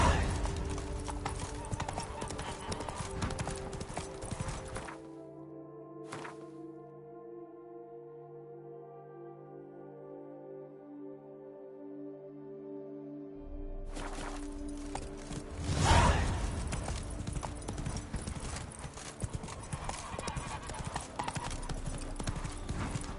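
Roach, the horse in The Witcher 3, gallops with a steady stream of hoofbeats under game music. The hoofbeats stop for several seconds and then resume strongly along with a whoosh, all close and fairly quiet.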